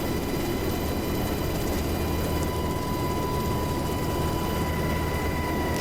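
A steady, loud aircraft engine drones at constant power, a dense low rumble with a faint high whine, running without change right before being throttled back and shut down.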